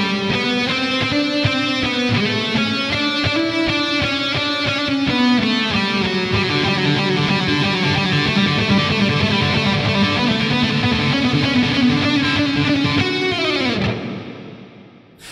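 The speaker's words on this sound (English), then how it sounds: "I'll do the arpeggios and the little pull-off lick," A distorted electric guitar with effects and reverb plays a fast, continuous run of arpeggios and a pull-off lick from a solo, loud and steady, then ends with a dive and fades out.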